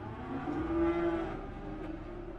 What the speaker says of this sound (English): That was when the cattle started.